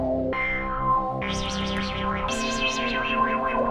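An Axoloti synth played through a resonant low pass filter gives a buzzy, distorted sustained tone that shifts pitch in steps, with sweeping resonant peaks warbling over it, echoey and continuous.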